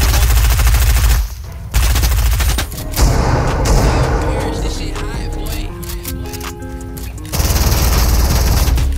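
Rapid automatic gunfire and bursts of shots fill a video game firefight, loud and continuous with short pauses between volleys, and a voice speaks briefly underneath.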